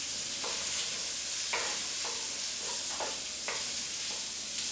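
Mushrooms cooking in melted butter in a pan give a steady broadband sizzle, with repeated stirring scrapes every second or so and no voices.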